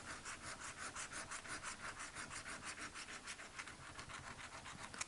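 Dobble scratch-off lottery tickets are scratched with quick, rhythmic rasping strokes, about four per second, close and fairly soft, with no voices.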